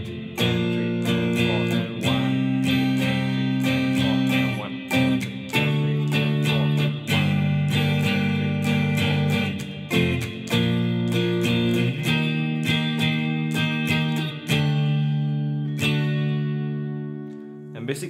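An electric guitar strums the chorus chord progression of a song in steady rhythmic strokes, with sustained chords ringing for about eighteen seconds.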